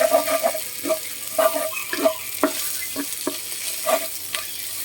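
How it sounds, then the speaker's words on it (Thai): Shrimp and glass noodles being stir-fried in a pan, with a sizzling bed under a series of repeated scraping, clattering stirs spaced through the stretch, close and moderately loud with no talk. "ก็ผัดไปสักพักหนึ่ง"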